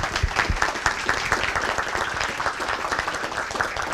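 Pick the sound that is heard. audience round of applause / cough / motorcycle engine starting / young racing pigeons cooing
audience round of applause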